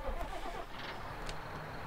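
A vehicle engine starts in Farming Simulator 19, a fairly quiet, brief crank and rumble that settles into a low idle.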